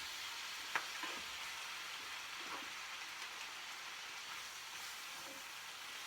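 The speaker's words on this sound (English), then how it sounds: "as I continue to toss these, as you see, all I'm going to do is really wilt the spinach" Shrimp and spinach sizzle steadily as they are tossed in a pan, a continuous hissing fry with a faint clatter near the start, no voices.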